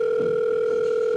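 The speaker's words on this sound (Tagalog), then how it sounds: "Agriring ti cellphone na." A cellphone in a home ring-tones with a steady, unbroken electronic tone that stays level and close, with no talk over it.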